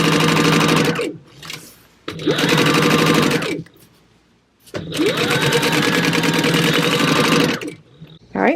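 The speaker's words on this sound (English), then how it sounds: "I'm just going to sew right along where I clipped with 1/4 of an inch seam allowance" Sewing machine stitching fabric with a quarter-inch seam allowance at stitch length 3, running in three steady buzzing bursts separated by brief pauses, close and fairly loud.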